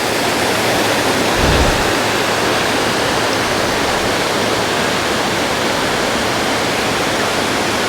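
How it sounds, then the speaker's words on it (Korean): Bridal Veil Falls near Vancouver, with winter snow still lying: a loud, continuous roar of falling water, dense and unbroken from start to finish, with no voices. "드디어 면사포 폭포까지 왔는데요"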